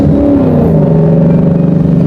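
A car engine revs loud and close, a low, throbbing rumble with a steady pulsing beat that lasts about two seconds, with no talk over it.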